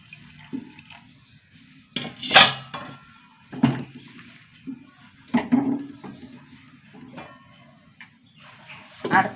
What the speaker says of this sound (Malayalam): വെള്ളം ഒഴിച്ച് കൊടുക്കാം കേട്ടോ.